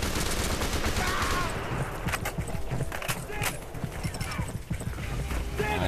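Rapid gunfire from the video game ATSS 2: Retribution, a terrorist nuclear facility mission, crackles in dense, continuous bursts. It plays over game background noise, with people talking now and then.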